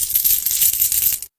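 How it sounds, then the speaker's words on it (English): Coins clink and jingle together in a bright, busy metallic shimmer of many small overlapping strikes, fairly close and steady for just over a second before stopping abruptly. "That was the sound of coins clinking together."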